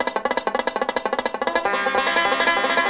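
Rapid, even banjo picking on a single string, bright plucked notes in a fast metronomic rhythm that blend into a ringing wash toward the end.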